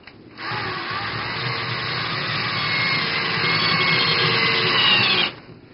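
A power drill drives a screw into a Venetian blind bracket in one continuous close, loud whirring run lasting about five seconds, rising slightly in strain near the end before stopping abruptly.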